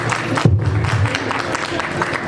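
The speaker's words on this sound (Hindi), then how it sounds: "बच्चे के लिए ताली बजा दो" A crowd at a national award ceremony claps for a child winner, a brief burst of applause mixed with voices and a low thump near the start.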